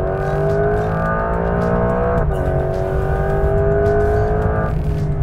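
A Porsche 911 GTS hybrid under hard acceleration, its engine note climbing steadily and loudly through the revs, with a brief dip at a gear change midway before it pulls on and eases near the end.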